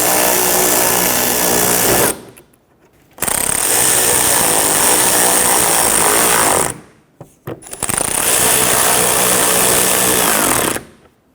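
A power driver running screws into the front bumper liner of a 1992-1996 Toyota Camry, three loud sustained whirring bursts separated by short pauses.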